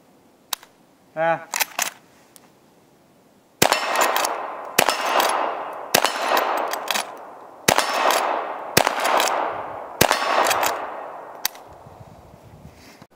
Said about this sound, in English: That's a lever action Rossi 38, 357 Magnum. I've never shot this gun before.